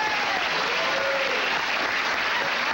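Studio audience applause on a 1970s late-night talk show set, a dense, steady wash of clapping hands filling the whole stretch at close, even loudness with no talk over it.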